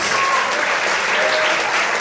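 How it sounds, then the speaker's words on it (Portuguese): A church congregation claps hard and fast in praise during an evening service, a thick, loud wall of applause sustained throughout, with faint cheering voices mixed in. "Todos podem aplaudir e exaltar a Deus bem forte"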